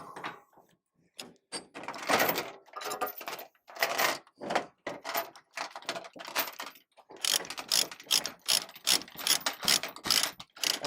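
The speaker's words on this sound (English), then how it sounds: "You don't got to go too crazy with cranking the chains down." A ratchet chain binder cranks down chains securing a mini excavator on a trailer, giving close, irregular bursts of metallic ratcheting clicks and clanks with brief quiet gaps between strokes.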